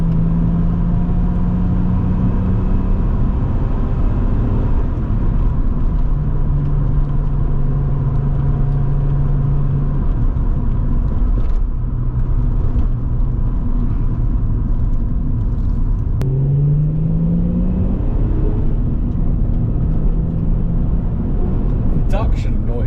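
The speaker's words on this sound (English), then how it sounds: "this car sounds so blooming marvellous. Let's give it some beans up this hill" An MG ZS 180 accelerates up a hill with a steady, rumbling engine note that rises in places, heard from inside the car under continuous conversation.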